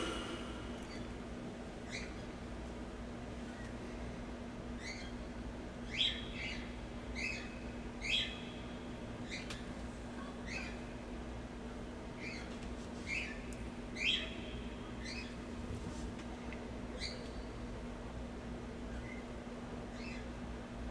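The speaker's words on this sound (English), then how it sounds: "The cockatiels are the ones that are chirping," Cockatiels chirp in short, high bursts scattered throughout, slightly distant, over a steady low electrical hum.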